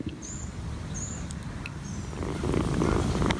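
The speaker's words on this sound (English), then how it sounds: "That machine noise is them purring." Kittens purr continuously in a low, rumbling, machine-like drone, close and steady, growing slightly louder toward the end, with a few faint high chirps above.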